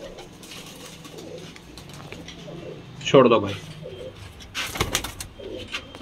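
Pigeons coo softly in a loft of birds for sale, with someone speaking briefly and some rustling and a short clatter nearby.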